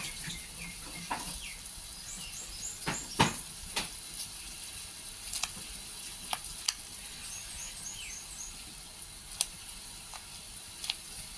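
Water at a rolling boil in a pot for bamboo shoot and pork belly soup: a faint, steady bubbling hiss broken by scattered sharp pops and light clinks, heard alone without talk.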